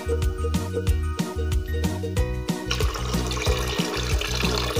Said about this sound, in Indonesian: Selanjutnya kita campur juga air kelapa muda.